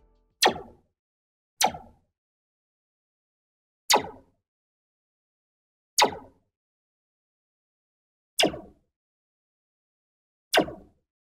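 Six Star Wars-style blaster shots, sharp descending zaps that each decay quickly, fire one at a time with silent gaps between them.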